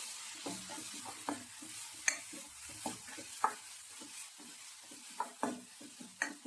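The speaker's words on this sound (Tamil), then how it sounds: "கொஞ்சம் பச்சை வாசனை போகிற வரைக்கும் வதக்கிக்கலாம்" A spice mixture for sundal sautés in a pan, a soft continuous sizzle broken by repeated sharp scrapes and taps of a spoon stirring against the pan, close and without voices.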